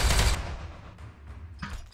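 Gunfire in the video game Warhammer 40,000: Regicide, a loud burst of rapid shots up front, followed by a quieter rumble and a second short blast near the end.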